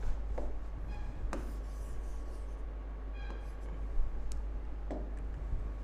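A teacher's chalk or marker writes on a classroom board in short scratchy strokes and taps, close and fairly soft over a constant low hum, with no voice heard.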